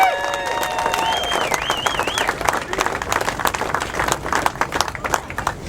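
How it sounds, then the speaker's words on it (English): At a Canadian motocross nationals round at Walton Raceway, a crowd applauds and cheers a champion rider on stage, steady clapping under a speaker's voice and a brief melodic tone. "Give him a big round of applause"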